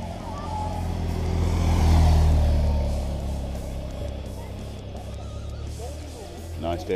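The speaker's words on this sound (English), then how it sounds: "Another police bike come in." A police motorbike at the Chorley Grand Prix cycling race rises from a distance, swells loudly as it passes close by, then fades away into steady background crowd noise.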